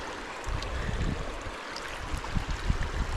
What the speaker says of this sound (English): Look at that water moving down.